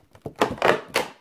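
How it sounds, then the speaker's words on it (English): A plastic seed-starting container being poked with holes, giving three or four quick, hollow plastic thunks and pops in close succession, near and fairly loud. "we're just gonna pop some hole on this container"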